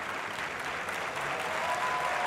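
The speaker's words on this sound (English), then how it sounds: "great reception from the crowd for this veteran" A crowd applauds a veteran shooter after his 14-of-16 finish in the men's skeet shooting final at the Rio 2016 Olympics, with steady, dense clapping that holds evenly throughout.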